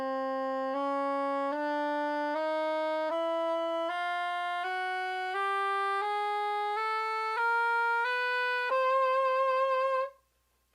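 A chromatic scale played one note after another, about a dozen clear tonal steps climbing evenly in pitch at a steady pace, alone and close, the last note ringing brighter before cutting off.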